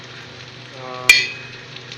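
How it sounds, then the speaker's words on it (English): Curry leaves shallow frying in hot oil give a steady low sizzle, which swells into a brief louder crackling burst partway through and then settles back to a soft continuous fry. "I'm shallow frying it. These curry leaves."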